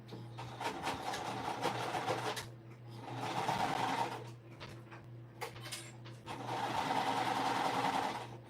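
A home sewing machine stitching minky fabric with a regular presser foot, running in three steady bursts of rapid whirring with short pauses between, close and clear.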